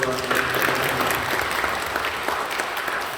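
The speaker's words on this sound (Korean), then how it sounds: "환영하는 박수 해주시고" A church congregation gives a sustained round of welcoming applause, a dense wash of many hands clapping at moderate volume with a faint tonal hum underneath.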